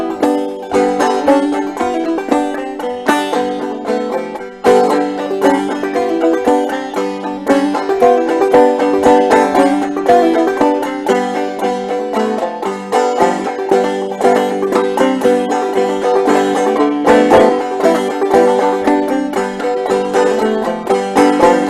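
Bright, rolling banjo tuned to open G plays the old-time fiddle tune Old Joe Clark, with steady picked rhythm and sliding notes, loud and close, no voices.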